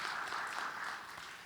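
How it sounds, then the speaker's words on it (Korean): Brief, faint applause from a church congregation, a soft steady patter of clapping heard at a distance without any voices over it. "여러분 큰 격려의 박수 부탁드립니다."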